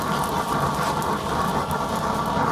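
Steady roaring hiss of a hot flame on a Joe Pipe hourglass burner fitted with a swirl device, with a dense crackling, snapping texture running continuously and fairly loud, without talking.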